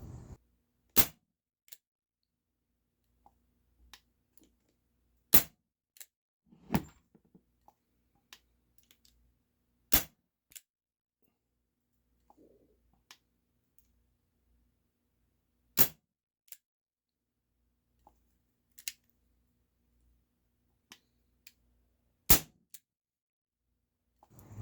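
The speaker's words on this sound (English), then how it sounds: "So that was 8 shots, 4 in single action and 4 in double action." Umarex Beretta 92FS nickel and wood CO2 air pistol firing eight shots, four single action and four double action, sharp isolated cracks spaced a few seconds apart in a quiet room with faint handling clicks between them.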